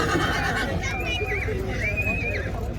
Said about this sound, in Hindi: श्वेत रंग का घोड़ा